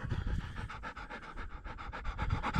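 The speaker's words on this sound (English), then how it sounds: "Sorry about my dog's heavy breathing." A dog pants heavily and rapidly at close range during an outdoor metal-detecting dig at an old homestead, a steady, loud, rhythmic huffing with no talk over it.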